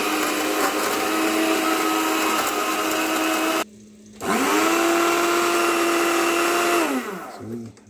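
An electric grinder whirs loudly as it grinds coffee with cloves, a steady high motor whine that cuts out briefly, restarts with a rising spin-up, then winds down at the end, close and with no talking.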